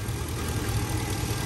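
A 2021 RAM Warlock pickup truck's engine idles steadily and smoothly with the hood open, a continuous low rumble that stays even throughout.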